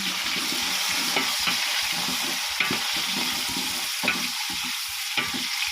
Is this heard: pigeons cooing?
no